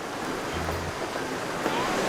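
A large waterfall in Phitsanulok, Thailand, visited in the hot season, gives a steady, rushing roar of falling water with faint wind noise.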